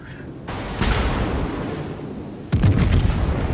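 Warship main battery guns firing in a naval combat game, with a heavy boom and a rolling roar after it, then a second sharper salvo near the end, loud and close.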